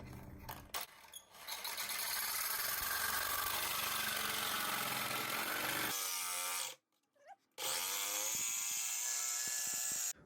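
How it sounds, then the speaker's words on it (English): A jigsaw cuts a profile into a wooden board, its buzzing motor and reciprocating blade loud and steady after a few start-up bursts, stopping briefly near the end before resuming. "Remember that the jigsaw is a cutting tool."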